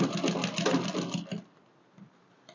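Close, loud sewing machine running fast, joining the upper bodice of a flare gown to the lower part, stopping after about a second and a half before near silence.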